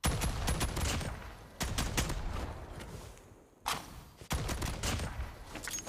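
A Jak 12 shotgun fires in a video game, loud rapid bursts of gunfire in clusters broken by two short quiet gaps, with faint footsteps between.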